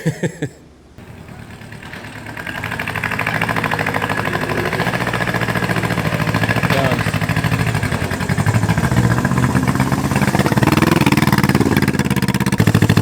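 Engine of a junkyard Honda CB360 motorcycle runs close and loud after a brief start, settling into a steady, rough idle that continues unbroken for about twelve seconds.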